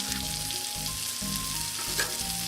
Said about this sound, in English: You can see the color, it starts getting sauteed.